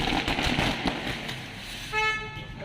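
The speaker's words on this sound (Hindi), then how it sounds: "बारात जा रही है तो पटाखे फोड़ना तो बनता है, तो पटाखे फूटे" Firecrackers burst during a wedding procession in a steady run of sharp cracks over a noisy crowd and traffic background, and a vehicle horn toots near the end.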